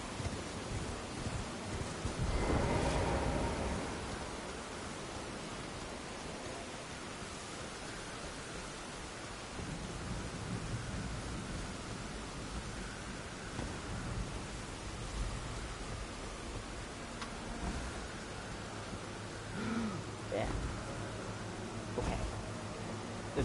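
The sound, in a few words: rain in the video game Elden Ring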